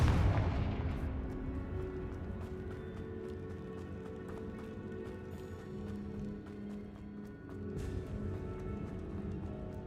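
A Confringo fire spell explodes in the Hogwarts Legacy video game with a loud burst at the start that fades into a rumbling wash of game sound, followed by another sharp hit near the end.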